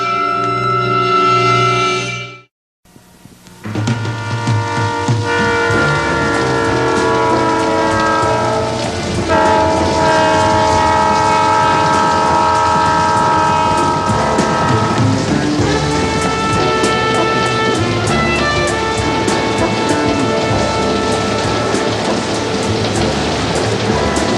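A train rolls steadily with a long, loud horn blast sounding through it, rain hissing continuously underneath, after a brief cut to silence near the start.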